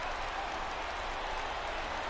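A baseball stadium crowd in MLB The Show 17 roars steadily as a 3-2 count arrives with the bases loaded, a dense and even wash of cheering with no break.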